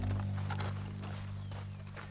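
Horse hooves clopping in the Red Dead Redemption 2 video game, quiet irregular clip-clop steps over a steady low background hum, brief and close.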